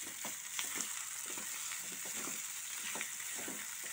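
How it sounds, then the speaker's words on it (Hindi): Potatoes stirred into browned fried onions in a pan, giving a soft, steady sizzle with repeated gentle spatula strokes, quiet and close, with no talking. "अभी इसके अंदर मैं ये आलू ऐड कर दूंगी और मिक्स करके लूंगी आलू को सब"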